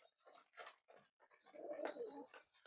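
Pigeons kept on a hobby farm coo and flutter close by while squabbling over food near a nest with chicks, a run of short bursts and soft cooing that builds louder toward the end.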